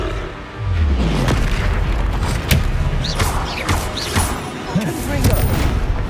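Expelliarmus spell cast in the Hogwarts Legacy video game, heard as loud booming magical blasts and crackling impacts over a constant dense battle din, with voice-like cries mixed in.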